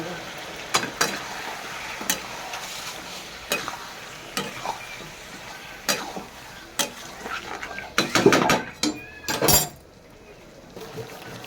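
A spoon scrapes and stirs salt and ground spice paste into goat meat in a pan, with intermittent clattering strokes and a soft sizzle while a person talks throughout.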